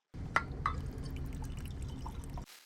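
Liquid, which turns out to be water, pours from a flask in a TV drama scene, a short gurgling trickle with a couple of clinks and drips, fairly close and quiet, with no talking.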